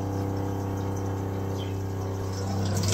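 A water ionizer for alkaline hydrogen water keeps running after its water source is shut off, giving a steady electric pump hum with a faint watery hiss that holds constant and grows slightly louder at the end.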